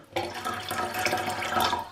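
Water is poured into an enema bucket in a short, close splashing trickle that starts abruptly and keeps a steady liquid gurgle for under two seconds, with no talking.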